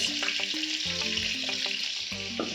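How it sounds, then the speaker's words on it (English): Meat for gizdodo sizzles loudly in a hot pan, a dense, constant hiss close up, with a faint melodic tune running quietly underneath. "now I put in my meat. That sizzle gets me every time."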